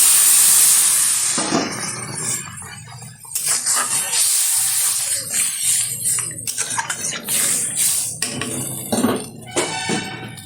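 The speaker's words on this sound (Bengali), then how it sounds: "দিয়ে দিচ্ছি পরিমাণ মতো জল।" Water poured into a hot pan of mushroom and potato curry sets off a loud, steady steaming hiss and sizzle that goes on throughout, with faint clinks of cookware underneath.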